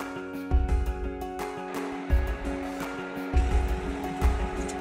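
Bitter gourd leaves coated in batter are lowered into hot oil and fry, giving several sizzling bursts over a continuous crackle with a steady tonal hum beneath.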